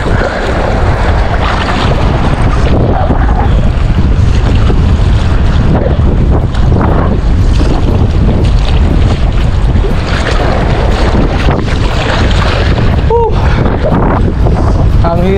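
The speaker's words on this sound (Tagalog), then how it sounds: "Ang hirap, pasalungat yung hangin po." Loud, constant wind roaring against the microphone over moving water, with voices faintly audible beneath the buffeting.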